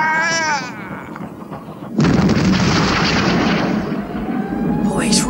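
Cannon firing from a vessel at sea at night: a voice calls out, then a sudden loud blast breaks into a long, dense roaring rumble that carries on for several seconds.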